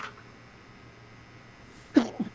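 A single sharp sneeze bursts out near the end, following a stretch of quiet room tone.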